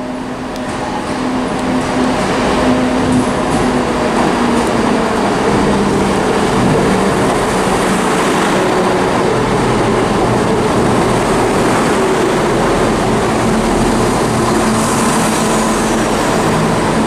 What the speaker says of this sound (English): approaching now is going to be a terminating Chiltern Railway service from London Marylebone, formed at a 168